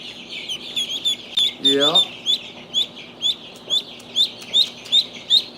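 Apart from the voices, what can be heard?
newly hatched baby ducklings peeping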